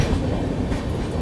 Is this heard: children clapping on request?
no